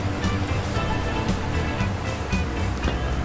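Water rushing past a mill in a farming video game, a steady full-band wash like surf or a weir that stays even and fairly loud throughout, with no talking over it.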